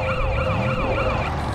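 A Matchbox Emergency Patrol toy ambulance plays its electronic siren, a steady, loud wailing tone that sweeps up and down without pause, close and alone.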